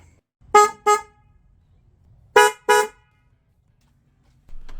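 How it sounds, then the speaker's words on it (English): A Honda CR-V's upgraded dual horn honks twice in quick succession, pauses, then honks two more short blasts, loud and close. "let's go and test the horn. First I'm gonna play before and after."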